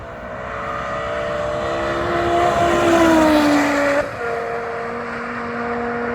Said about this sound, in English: BMW V10, lovely.